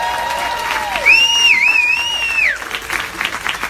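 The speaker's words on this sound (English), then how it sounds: "Tell me if you like it or not with a big old round of applause." Audience applause at a conference in Venice, Florida, a steady mid-level wash of clapping and crowd noise lasting a few seconds, with a bright whistle-like tone sliding over it partway through.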